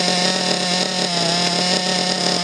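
A Hobao Hyper 7.5 nitro RC car engine runs close by with a loud, buzzing, high-pitched drone, steady and uninterrupted throughout.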